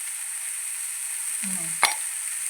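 Vegetables seasoned with salt and pepper sizzle steadily in a pan for a veg momo filling, a constant close hiss with a brief clink of a utensil near the end.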